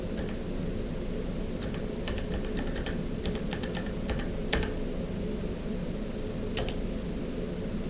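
Someone types a name on a computer keyboard, a steady run of light, close key clicks in irregular rhythm with a few sharper taps standing out over a constant background hum.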